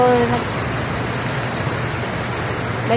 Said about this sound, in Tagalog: grabe ang ulan nun. Nakas ng ulan.